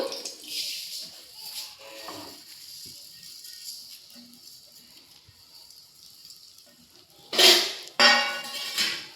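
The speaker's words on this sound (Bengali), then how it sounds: "ঘি ভালোভাবে গরম হয়ে গেলে শুকনো করা চালগুলো দিয়ে দেব" Dried rice grains tipped into hot melted ghee in a pan, giving two loud bursts of sizzling and crackling near the end after a quieter stretch of faint kitchen clatter.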